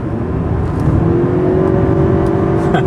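A Toyota Avalon Hybrid accelerates in sport mode, its engine note climbing steadily in pitch as it revs, a smooth continuous drone with tire and road noise, heard from inside the car without talk.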